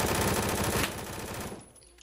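Rapid automatic gunfire in the shooter game Phantom Forces, a dense, loud burst of fast repeated shots that stops after about a second and a half and leaves a short fading tail.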